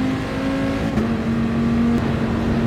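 A Viper race car engine in a racing video game drones steadily at high revs along a straight in a loud, continuous tone that stays even throughout.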